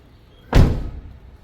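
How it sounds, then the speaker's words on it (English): Car door being closed after installing door lights, a single solid thunk close by, with a short decaying resonance and no talk. "Door closing."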